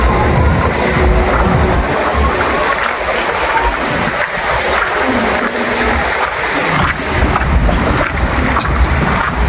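Running river water at a forest resort, fed by pool overflow, rushes loudly and continuously with a broad, steady wash close to the microphone.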